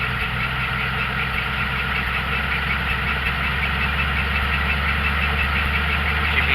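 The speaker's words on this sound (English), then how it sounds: "You can hear the wheels spinning." A car engine in drive with a full transmission holds a loud, steady, rough drone while the wheels spin, running without a break and with no talking.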